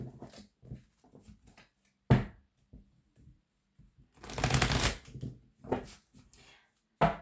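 Oracle cards being shuffled and cut, close papery riffles and soft taps in short bursts, one longer dense flurry in the middle, with pauses of quiet between.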